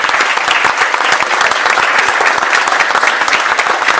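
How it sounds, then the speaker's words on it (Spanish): A studio audience claps loudly on a panel talk show, a close, dense patter of many hands with individual claps distinct, steady and energetic for several seconds, no talking. "aplauso para eso"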